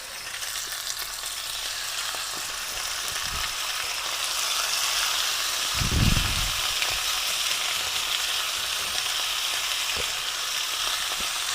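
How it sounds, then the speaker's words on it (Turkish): Beef steaks searing in hot oil in a pan, a steady, dense sizzle and crackle that holds at an even level throughout, with a soft low thump near the middle and no speech. "Şöyle bifteklerimizi dediğim gibi sadece mühürleme yapacağız."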